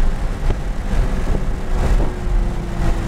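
Supercar engine pulling hard out of a corner on a race track, a steady, loud, close roar that holds through the short stretch with no talking.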